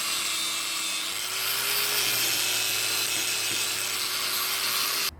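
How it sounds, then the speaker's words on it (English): A rotary wire brush on a power tool scrubbing a bolt thread on a VW T3 Vanagon radius rod, a loud continuous high whirring grind held steady for about five seconds before stopping abruptly. "I've got this tool with the wire brush on the end,"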